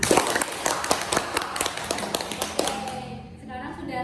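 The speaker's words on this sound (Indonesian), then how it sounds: "Mari kita beri aplaus bersama" A classroom group claps together after a presentation during a microteaching lesson, a dense patter of hands lasting a few seconds before tapering off.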